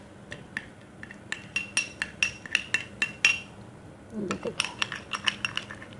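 Spoon clinking and scraping against a bowl while stirring a paste of aloe vera gel and milk, a quick irregular series of light metallic taps with a short pause midway, close and fairly quiet.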